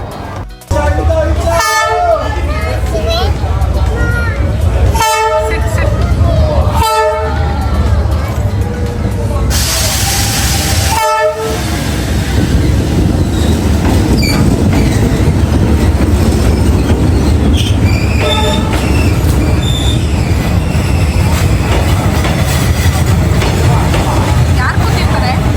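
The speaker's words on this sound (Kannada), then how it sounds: "Finally the train is here." A train rumbles slowly along Hanoi's narrow Train Street past crowded coffee shops. A loud horn blasts repeatedly, then wheels clatter and squeal close by while people talk nearby.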